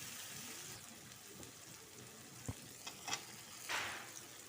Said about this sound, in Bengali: এবার আমি ফুলকপি ভাজাটা এর মধ্যে দিয়ে কষিয়ে নেব।